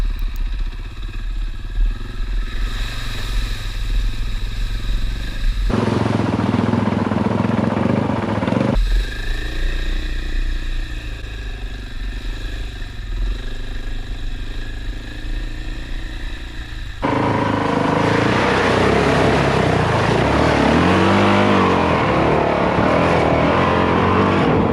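A 450 dirt bike rides slowly through the bush with a steady, close engine drone. The pitch shifts as the throttle changes, and the note grows rougher and busier toward the end.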